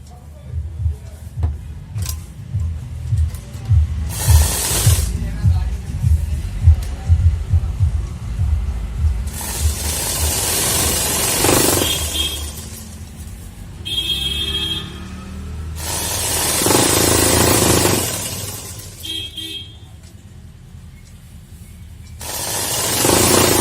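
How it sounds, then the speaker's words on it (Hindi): Sewing machine stitching along the side of a saree, a steady rapid mechanical whir in bursts, interrupted by broad noisy passages. "इस तरीके से एक तरफ हम सिलाई लगा लेते हैं पहले"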